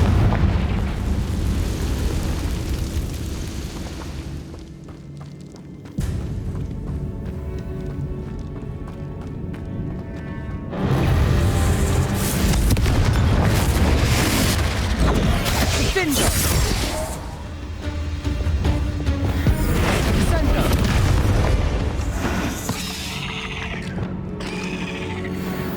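Confringo fire spells explode repeatedly in Hogwarts Legacy on Switch, with booming blasts and crackling bursts mixed with game music, mechanical clatter and spoken spell calls.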